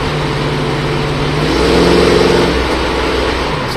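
The 289 V8 of a 1966 Ford Mustang hardtop rumbles at idle, then swells into a moderate rev that rises and falls back, loud and near, with no speech.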